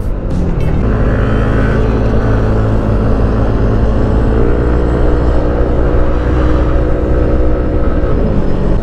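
A loud Yamaha Sniper motorcycle engine roars close by, heavy low rumble and growl holding steady over several seconds with slight pitch shifts as it passes and idles.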